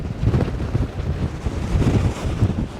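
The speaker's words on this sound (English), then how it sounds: "I hope this wind calms down though, this is madness." Strong wind buffeting the microphone on an open fell between Lords Seat and Broom Fell, a loud, continuous roar with gusty surges and no voices.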